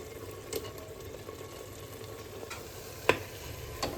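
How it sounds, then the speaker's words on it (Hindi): Mashed potatoes frying with spices in hot oil for a vrat falahari meal, a steady low sizzle with occasional scraping stirs and sharp clinks of a spoon against the pan. "थोड़ी देर इसमें आलू भी भूनेंगे मसाले के साथ।"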